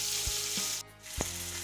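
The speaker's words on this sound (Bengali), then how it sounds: "চিংড়ি মাছটা ভাজা শুরু করে দিয়েছি," Prawns frying in a pan give a steady close sizzle, broken by a brief dip near the middle and a few soft knocks of a utensil against the pan.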